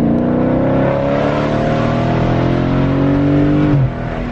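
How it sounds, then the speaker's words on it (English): A Dodge Charger Scat Pack V8 fitted with a JLT cold air intake roars under hard throttle, a loud, deep, sustained drone that climbs steadily in pitch, then eases off near the end. "My engine is roaring with this shit, bro."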